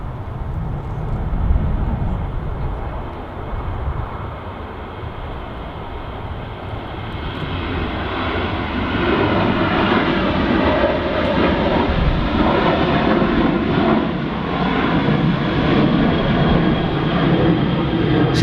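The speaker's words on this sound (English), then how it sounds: "Got a Ryanair just departing here" A Ryanair Boeing 737 airliner departs with a loud, sustained jet engine roar that builds steadily and stays strong throughout, with no talking over it.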